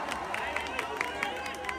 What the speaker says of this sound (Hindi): एक बार अपने लिए ताली हो जाओ